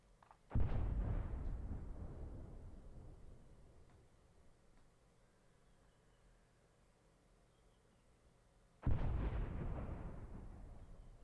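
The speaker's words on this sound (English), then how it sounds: "carpet of bombs" Artillery strike in Arma 3 S.O.G. Prairie Fire, a walking carpet of bombs: two heavy, close booming blasts about eight seconds apart, each followed by a long fading rumble, with no voices.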